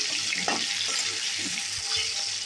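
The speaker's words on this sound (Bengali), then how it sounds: "আলুগুলো দিয়ে এখন একটু ভেজে নেবো আলুগুলো তেলের মধ্যে" Cut potatoes frying in hot oil with whole cumin, a continuous close hiss and crackle of sizzling with faint low knocks underneath, no voices.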